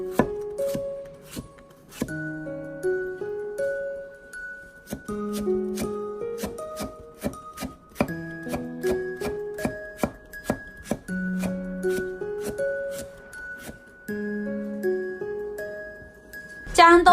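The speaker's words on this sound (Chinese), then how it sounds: "然后用刀将冬笋切成薄片" A kitchen knife slices winter bamboo shoots into thin pieces on a board, with crisp, closely spaced chops in a steady rhythm. Soft melodic tones play underneath throughout.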